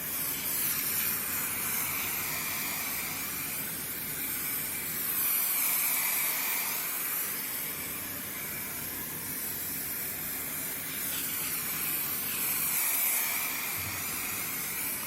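An aerosol can of hairspray sprays long, continuous hissing bursts close by, swelling and easing slightly as the can is swept back and forth over a miniature snow scene, with no talking.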